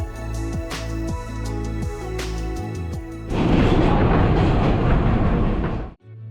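A New York City subway train rumbles along with rhythmic clicking over the rail joints, then gives way to a louder, broad rushing roar before the noise cuts off abruptly.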